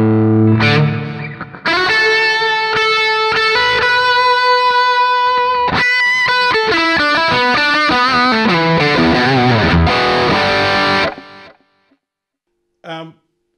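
Electric guitar played through a Zoom G1X Four multi-effects processor, with sustained distorted chords and pedal-controlled shimmering reverb tails, loud and continuous, then fading into a short decaying echo.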